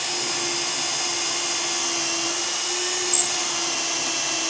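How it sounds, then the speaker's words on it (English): Power drill boring holes through a 3mm drill guide, a continuous high-pitched whine held steady for several seconds, close and loud with a faint hum underneath and no talking. "I can now drill this."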